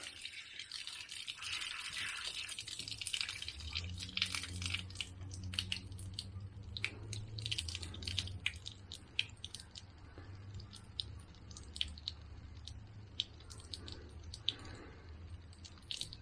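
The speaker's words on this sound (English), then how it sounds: "That's going to constantly drizzle out." Water drizzles steadily out of an opened household shut-off valve during plumbing repair work: a faint, continuous wet dripping and trickling with small splashes, close by and without any talking.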